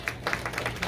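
Sparse clapping from a birthday gathering crowd, a handful of sharp claps in an uneven rhythm, fairly close and moderate in level over a low background hum.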